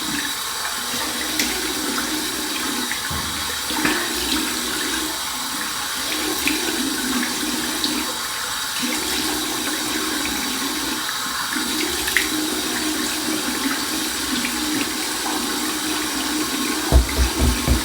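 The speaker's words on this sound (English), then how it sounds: "So here's my warm water rinse" Warm water runs steadily from a tap as a rinse during a head shave, a continuous splashing flow with slight surges, close and unbroken for the whole stretch, with a few louder knocks near the end.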